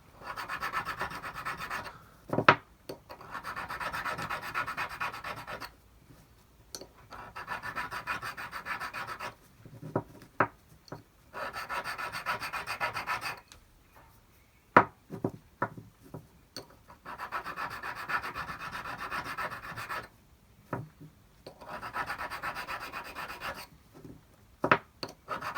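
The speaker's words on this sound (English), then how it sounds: "I'm just checking to see if there's any burrs on there or anything, a little bit of roughness, and then just smoothing off." Inside an SC3 geared scroll chuck, the parts are smoothed and lapped by hand, giving long rasping rubbing strokes in repeated bursts with short quiet gaps between them.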